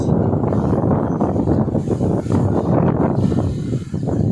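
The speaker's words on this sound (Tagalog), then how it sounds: "mas lumakas na yung nararamdaman namin dito ng pag-ulan at saka hangin" Strong typhoon wind roars and buffets the microphone nonstop, with rain noise mixed into the heavy, broadband rush, in San Andres, Catanduanes, Philippines.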